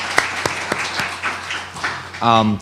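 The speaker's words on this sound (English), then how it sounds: "a round of applause for all of our speakers" Scattered, sparse claps ring out for the speakers at a gathering, a few distinct hand strikes spaced irregularly, before a voice begins talking at the close.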